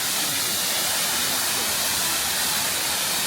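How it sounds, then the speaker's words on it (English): Brandywine Falls in Ohio pours in a constant dense roar of falling water, loud and unbroken throughout, with no voices. "Very nice waterfall."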